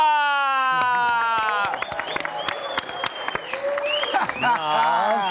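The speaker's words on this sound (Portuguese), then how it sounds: "muitos aplausos, gritos histéricos para Luísa Zonza!" A comedy show studio audience erupts in applause mixed with shrill, hysterical screams and whoops, high voices shrieking and sliding over scattered clapping throughout.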